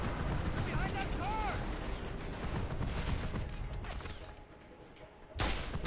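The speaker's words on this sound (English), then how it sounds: "More explosions." Explosions and gunfire from the video game Mercenaries 2 boom and crackle through a dense, continuous stretch of in-game noise, ending in a sharp loud burst near the close.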